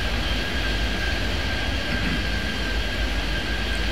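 A steady, continuous roar of a jet airliner rolling down a runway in the airport game Airport Madness 3D, an even engine drone with a faint high whine running unbroken throughout.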